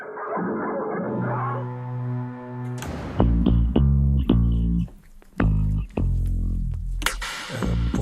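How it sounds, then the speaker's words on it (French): Dogs in a dramatic scene from a Gainsbourg peplum film: whining, yelping and tonal barks come loud and close in irregular bursts, mixed with other film sound. "le vilain Gainsbourg doit se faire dévorer par ses chiens"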